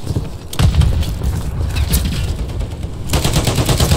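An LMG fires bursts in the video game Modern Warfare 3. Loud, rapid machine-gun volleys come in several clusters, with short gaps between them.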